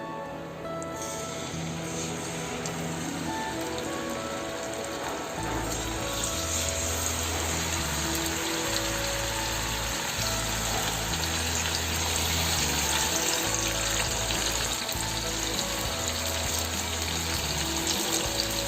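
Marinated chicken pieces frying in hot oil at medium-high heat, a steady hissing, bubbling sizzle that holds for the whole stretch with a low hum underneath.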